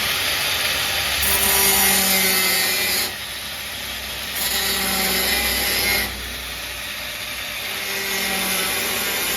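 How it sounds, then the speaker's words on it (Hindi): A power tool cuts into a truck part to make room for a projector mini light. It gives a loud, steady whine and grinding noise in two long passes with a short pause between them. "तो एक कटिंग हमने यहाँ से करनी है हल्की सी"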